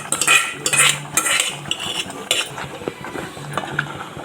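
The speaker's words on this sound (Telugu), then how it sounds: "సో తర్వాత గోంగూర మిక్స్ చేసుకోవాలి చికెన్ కర్రీలో" A utensil stirs gongura leaves into chicken curry in a pot, with repeated metal clinks and scraping against the pot in uneven bursts, up close and without talk.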